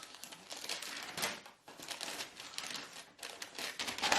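Paper packing wrapped around a luxury purchase crinkles and rustles in bursts during an unboxing, close and fairly loud with short pauses between handfuls.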